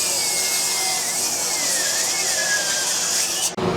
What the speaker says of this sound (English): This is a battery-powered chop saw here.